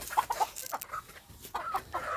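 Pet chickens cluck in short, close bursts while being fed uncooked rice in place of their usual feed, with brief pauses between the calls.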